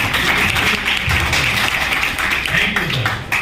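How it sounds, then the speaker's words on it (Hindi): Audience applause at a caterers', halwai cooks' and vendors' gathering in Sanjarpur, Azamgarh, a steady dense clapping that runs the full length at close range, with low murmuring voices beneath. "तालियां कम नहीं होनी चाहिए, तालियां ज्यादा होनी चाहिए।"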